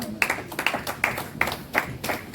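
A church congregation applauds, a loud, dense spread of clapping from many hands filling the room, with pulsing peaks and faint voices mixed in.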